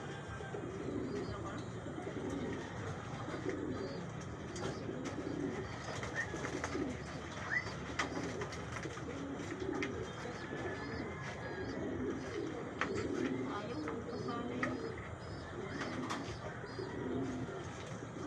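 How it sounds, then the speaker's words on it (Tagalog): Racing pigeons coo steadily through a dense, continuous backdrop of bird sounds, with soft intermittent chirps over a constant murmur; voices are faintly present at moderate distance. "Ito yung ibon natin"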